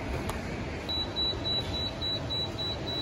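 Repeated short electronic beeps sound at a steady rhythm over a constant low background hum, with no talking.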